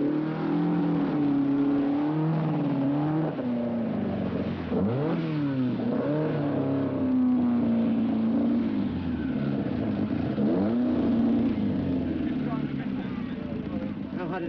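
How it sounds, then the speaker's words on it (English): Ford Escort rally cars at the 1977 East African Safari Rally driving through a lake, engines droning and revving up and down continuously and loudly, with someone talking over them. "Part of the thorough preparation, driving the cars through a lake."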